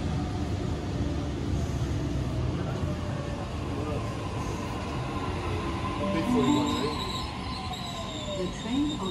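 A train rumbles steadily through Erskineville station, its wheels letting out thin, drawn-out squeals over the continuous low roar, with a faint voice in the background.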